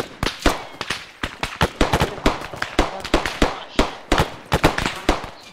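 Gunfire from a military video game pops sharply and loudly throughout, shots coming in an irregular rapid stream of cracks with occasional clusters, without speech.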